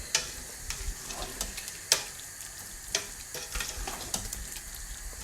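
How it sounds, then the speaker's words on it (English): Beef curry being stirred in a frying pan, with a soft sizzle beneath repeated sharp scrapes and clinks of the utensil against the pan at an uneven, unhurried rhythm, close and fairly quiet. "Now I'm going to mix everything around. Bring all that together"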